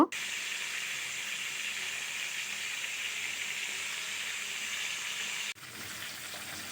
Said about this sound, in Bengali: মাছ কিন্তু খুব ভালোভাবে ভেজে নিতে হবে আমি একদম লাল লাল করে মাছ ভেজে নিব